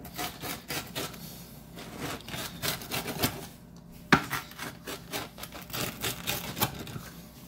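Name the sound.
crispy thin crust pepperoni pizza being handled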